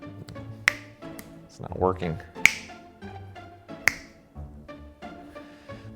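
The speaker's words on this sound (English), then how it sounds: "all I'm gonna do is snap my fingers and it'll be done" Three crisp finger snaps spaced a second or more apart, close and clear, amid someone speaking in a garage working on a C4 Corvette project car.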